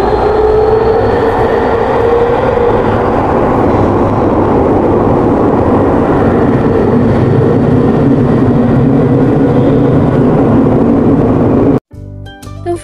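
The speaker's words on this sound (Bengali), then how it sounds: "অনেকক্ষণ অপেক্ষার পর আমাদের ট্রেনও কিন্তু চলে আসছে" A metro rail train pulls into a station, its loud rumble and rolling wheel noise filling the platform for about twelve seconds before cutting away abruptly near the end.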